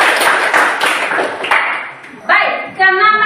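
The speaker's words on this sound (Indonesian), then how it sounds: "Oke, berikan tepuk tangan." A classroom of students clapping in a burst of applause, then stopping, followed by a few light taps and a short ringing tone.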